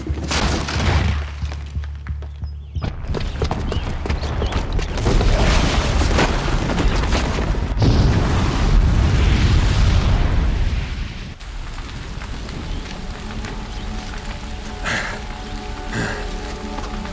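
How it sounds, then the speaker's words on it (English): A booby-trapped bomb explodes in the video game Horizon Zero Dawn: a loud, dense rumbling roar with crackling debris runs for several seconds, then drops to a quieter, lingering rumble. "the booby trap on the bomb downstairs is gonna get set off"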